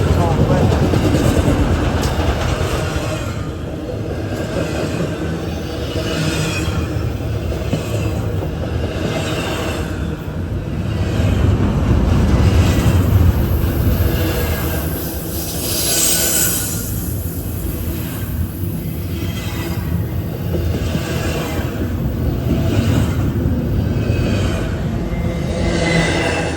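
A train rumbles steadily through downtown Madisonville, Kentucky, loud and close, with continuous rolling wheel noise and rail clatter lasting throughout.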